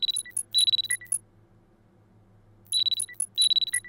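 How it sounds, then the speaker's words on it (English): Video game alarm ringing in rapid bursts of bright, high electronic beeps, a cluster at the start and another after a short quiet gap, heard alone over a low background hum. "The alarm is ringing."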